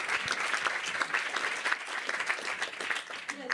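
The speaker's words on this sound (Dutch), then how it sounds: "Ja, applaus." An audience applauds at a Dutch community café meetup, a steady, dense clapping that stays fairly even and close throughout without any words over it.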